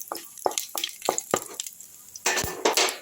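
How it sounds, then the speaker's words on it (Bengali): A tempering of dried chilli, bay leaf and whole cumin is stirred in hot oil, with a series of quick spoon scrapes against the pan over a soft sizzle, then a louder burst of frying near the end. "এটা আমি ফোড়নে দিয়ে দিলাম একটু ভালো করে নাড়াচাড়া করে নিচ্ছি"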